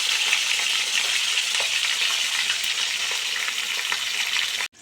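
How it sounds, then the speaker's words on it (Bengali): Parshe fish frying in hot oil give off a steady, dense sizzle with faint crackles that holds at an even level for nearly five seconds, then cuts off abruptly at the end. No one speaks. "সেই জন্য পার্সে মাছগুলোকে আগে ভেজে নিচ্ছি।"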